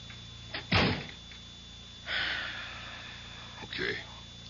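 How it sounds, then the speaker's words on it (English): A door is shut indoors in a radio drama scene, giving one sharp, close thud-and-click early on, followed by softer scraping movement sounds, with no talking over it. "shut the door."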